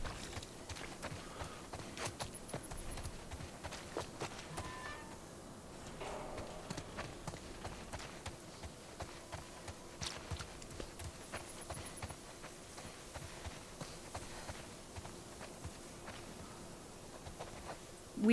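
A boar in The Last of Us Part II runs with quick, rhythmic hoof thuds, fairly faint and steady for a long stretch against a quiet background.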